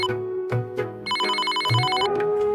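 A telephone rings in a Hindi cartoon, an electronic bell trilling in a loud sustained burst over background music, with no speech.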